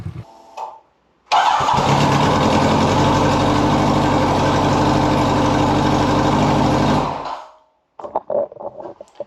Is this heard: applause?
no